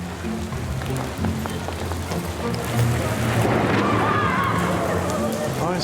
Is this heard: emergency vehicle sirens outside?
no